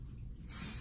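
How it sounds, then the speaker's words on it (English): A tight-hold hairspray is sprayed onto teased hair roots with extensions: one sharp, close hissing burst starts about halfway through and holds steady to the end after a low, quiet background. "spray the hairspray on them."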